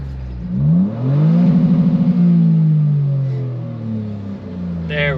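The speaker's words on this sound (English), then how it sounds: "Should we spank it off the rev limiter?" A Toyota GR Corolla with an AWE exhaust is revved hard up to the rev limiter. The loud, close engine climbs, chatters rapidly against the limiter for about a second, then falls back to a lower drone.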